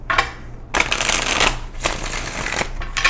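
Tarot cards being shuffled in quick riffling bursts, three or four crisp fluttering rushes separated by short pauses, close to the microphone.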